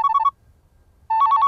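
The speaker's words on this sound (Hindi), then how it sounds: "फोन उठा ले यार, बज रहा है" A telephone rings in two short trilling bursts separated by a brief pause, close and clear.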